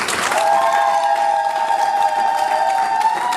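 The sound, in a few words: church congregation applauding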